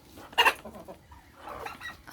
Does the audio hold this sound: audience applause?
no